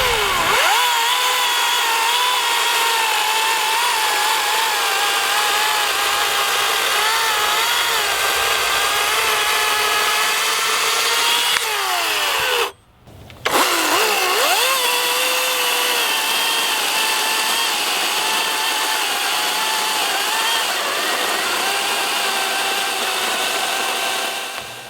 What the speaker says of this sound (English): this Atlas 80-volt Harbor Freight chainsaw